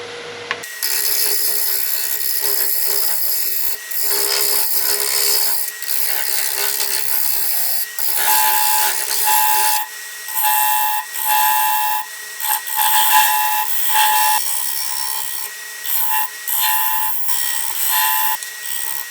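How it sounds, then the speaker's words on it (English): Sandpaper rubbing steadily against a sealed wood-turned piece spinning on a lathe, a continuous bright abrasive hiss with brief dips and swells, close and fairly loud, no voices. "I got it pretty much sanded down"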